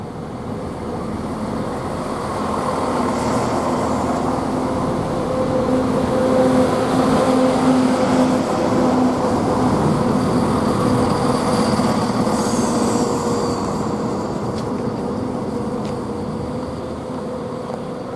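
At March railway station, a train pulls away with a continuous engine drone and rumble that swells through the middle and then eases, heard up close with no voices.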